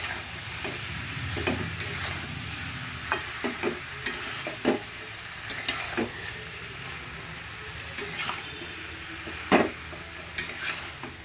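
Vegetables with turmeric and salt being sautéed in a pan: a steady low sizzle runs throughout, broken by repeated sharp clicks and scrapes of a spatula stirring against the pan, close and moderately loud, with no talking.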